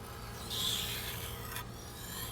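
A Mercer kitchen knife blade drawn along a sharpener in a culinary school demonstration, making one close, scraping rasp followed by a softer, steady rubbing.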